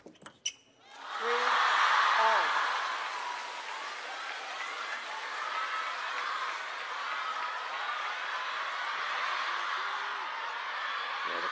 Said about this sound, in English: the crowd now getting more and more vocal